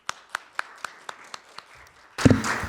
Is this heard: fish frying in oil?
no